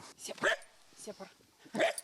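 A military guard dog at a frontline position in Ukraine gives two short, sharp barks close by, with someone talking over and between them.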